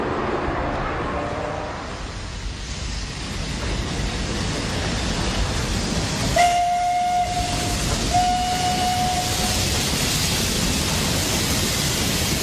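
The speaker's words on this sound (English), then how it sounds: "a steam train pulled into Dessau station." A steam train pulls into Dessau station in 1926 with a steady loud hiss of venting steam, broken near the middle by two short high whistle tones, under a continuous rumbling wash of noise.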